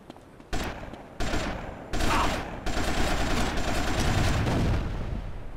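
Loud, dense gunfire from several weapons erupts in the video game GTA: Vice City Stories during a three-way gunfight, with rapid overlapping shots and bursts arriving in waves over a few seconds.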